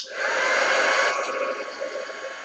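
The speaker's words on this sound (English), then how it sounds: "I'm going to take a second or two and heat set this before the next step" A heat tool blowing over a color wash on gesso to set it, a loud continuous whooshing hiss lasting a couple of seconds, close and alone.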